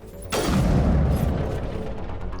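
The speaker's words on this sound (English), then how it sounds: "I love the sound of the snipers in this game" Sniper rifle shot in the Mass Effect video game: a single sudden, loud, thunderous boom that rolls into a long, fading rumbling tail.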